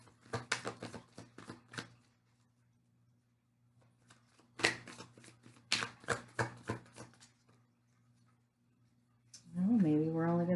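Tarot cards are shuffled in quick riffling bursts with pauses between them, close and crisp, and a voice speaks briefly at the end.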